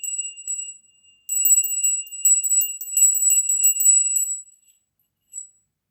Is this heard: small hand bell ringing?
yes